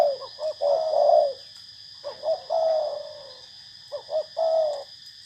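A spotted dove coos in three separate phrases, each a short run of soft, deep hoots, with a steady high insect drone behind.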